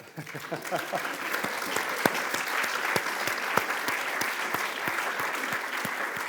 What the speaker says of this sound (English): I think your heresies have earned you that round of applause.